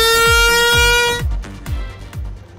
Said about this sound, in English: We're gonna prank Peter with this air horn.